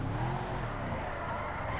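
A car drifting in GTA 5 gives a moderately quiet whine of skidding tires over a steady engine drone, sustained through the whole short stretch.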